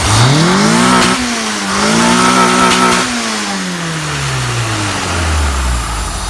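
A small engine running rough on only two cylinders because of a fouled spark plug revs up and down loudly and close, its pitch rising, dipping, then sliding steadily lower as the throttle eases, with no talk.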